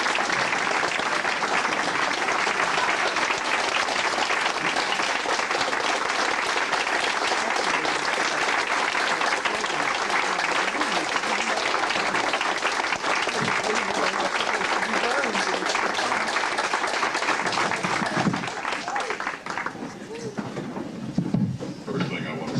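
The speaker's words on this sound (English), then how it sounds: "Let's give him a round of applause." A banquet audience at a 1997 toast and roast event gives a long, loud, sustained round of applause that fades toward the end, with a voice starting to speak as the clapping dies down.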